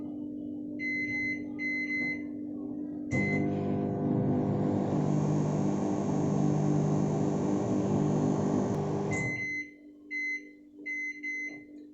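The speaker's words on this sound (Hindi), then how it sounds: "इसको मैं माइक्रोवेव में 30 to 40 सेकेंड्स के लिए ऐसे ही घुमा लूंगी" A microwave hums steadily for several seconds, framed by short electronic beeps before and after the run.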